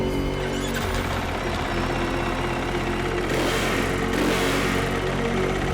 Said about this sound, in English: Now that is the sound of the KTM 450 motorbike that you can actually play in the game.